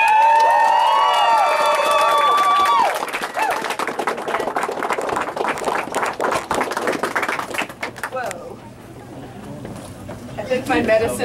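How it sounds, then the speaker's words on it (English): Audience at a Free State Project event applauds and cheers, with a whoop and bright shouts at the start, then a dense burst of clapping that gradually thins and fades near the end. "So, a warm round of applause."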